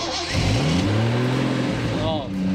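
A Triumph TR6 roadster's engine and exhaust rev and accelerate up close, a rising then falling drone holding steady and loud, with a second climb near the end.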